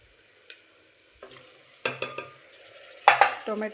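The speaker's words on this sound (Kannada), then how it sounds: "ಟ್ರಾನ್ಸ್ಪರೆಂಟ್ ಆಗಬೇಕು, ಆ ಥರ ಸ್ವಲ್ಪ ಹೊತ್ತು ಫ್ರೈ ಮಾಡೋಣ" Onions frying in a pan sizzle softly under a few sharp scrapes and clinks of a spoon stirring them, the bursts louder near the end.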